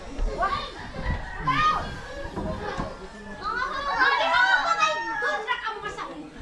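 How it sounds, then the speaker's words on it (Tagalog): Children play and talk outdoors in the Philippines, with lively overlapping chatter, excited calls and shouts at moderate distance. "Ang mga ingay ng mga bata,"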